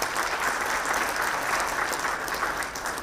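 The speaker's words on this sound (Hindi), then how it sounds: "ताली बजा।" An audience at the Foundation Day ceremony of India's Bureau of Police Research and Development breaks into sustained applause, a dense, even burst of clapping that holds steady throughout without any speech.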